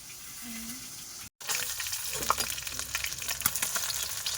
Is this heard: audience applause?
no